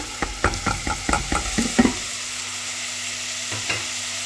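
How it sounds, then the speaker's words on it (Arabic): Chopped onion and minced meat frying in oil in a pan, a spoon stirring in quick clattering scrapes over a soft sizzle, then fading to a quieter sizzle with a couple of later stirs. "نحطوا البصل، نحطوا اللحم المفروم"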